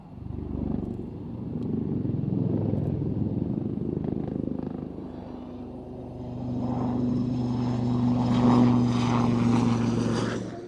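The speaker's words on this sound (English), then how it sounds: "now to the aircraft departing" A propeller aircraft departs at an airshow, its engine drone building steadily and swelling louder toward the end, with a sustained tonal hum layered over the broad rumble.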